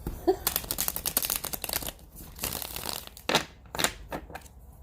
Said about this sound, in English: Sorry, I just enjoy shuffling these cards.